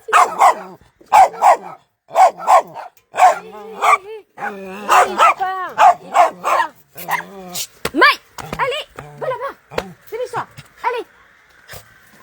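Several dogs bark and yip in quick bursts, close and loud, mixed with whimpers and a person speaking French between them.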